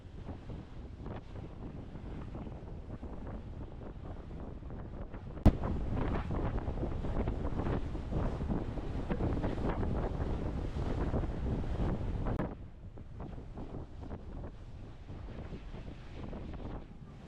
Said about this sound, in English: I don't know if you can hear me or not, but it's windy as.